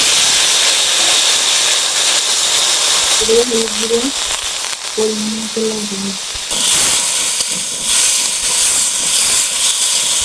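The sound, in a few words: potatoes frying in mustard oil, sizzling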